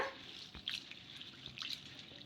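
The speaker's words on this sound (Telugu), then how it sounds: "ఇలా సగ్గు బియ్యాన్ని కడిగేసుకొని మళ్ళీ కొన్ని నీళ్ళు అయితే వేసేసుకొని" Sago pearls rinsed in water in a bowl, soft continuous sloshing with a few brief splashes and trickles, fairly quiet and close, with no talk.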